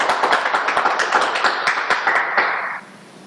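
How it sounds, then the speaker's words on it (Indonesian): A small audience claps in a rhythmic, near-unison beat at a morning talk session with company directors, the sharp claps repeating steadily before stopping abruptly and leaving a quiet room. "Tepuk tangannya lagi untuk pertanyaan kedua."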